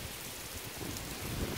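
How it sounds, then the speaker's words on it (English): Heavy rain pours steadily during Hurricane Harvey, a dense close hiss with deeper rumbling swells toward the end. "it is intensely raining"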